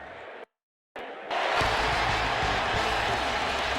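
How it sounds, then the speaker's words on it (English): Crowd of tailgaters cheering in ESPN NFL 2K5 before a Titans versus Eagles game, a dense roaring cheer swelling in loudly after a short silent gap and holding steady to the end. "look at all the happy tailgaters as they get set to cheer for the hometown team"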